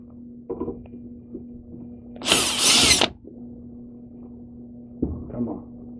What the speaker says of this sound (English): we'll take this little booger and pull the screws out